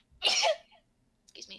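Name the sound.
sneeze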